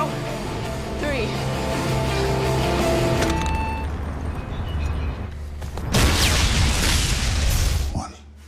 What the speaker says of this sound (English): Then toss it as far as you can. Keep the phone on so I could hear the explosion.